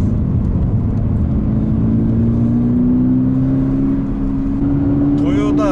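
A rear-wheel-drive Toyota GR86 with a boxer engine and manual gearbox pulls away slowly on a circuit, its steady engine drone rising gently in pitch while the car moves off. The sound is close and continuous, with no talk.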